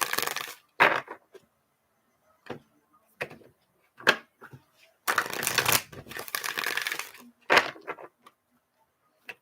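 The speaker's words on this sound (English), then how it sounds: "Let me shuffle these cards again." Tarot cards shuffled by hand at close range, crisp bursts of riffling and slapping in irregular spurts with a longer continuous shuffle mid-way and quiet pauses between, no talking.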